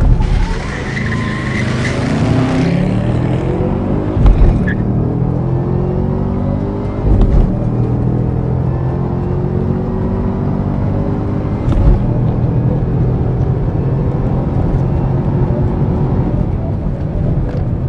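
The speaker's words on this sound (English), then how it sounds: "the fastest way to launch a ZL1" A 2013 Chevrolet Camaro ZL1 launches hard, its loud V8 roaring and climbing through the revs with tire squeal and wheelspin. Each gear change brings a sharp break before the engine pulls again close by.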